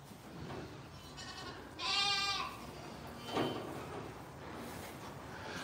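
Pygmy goats bleat twice in a livestock pen at birthing time: a loud, wavering cry near the start, then a shorter, softer call a moment later, over low background rustle.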